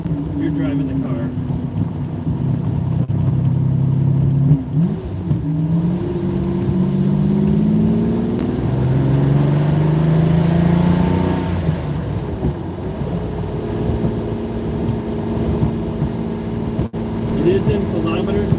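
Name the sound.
Lamborghini Countach engine while driving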